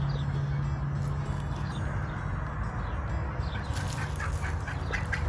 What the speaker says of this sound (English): Oh, looks like a turkey bird found us.